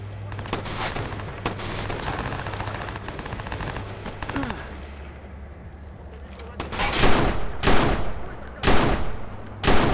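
Bursts of automatic gunfire from a stolen gun in Watch Dogs, sporadic at first and then loud, rapid volleys near the end, with talk over parts of it.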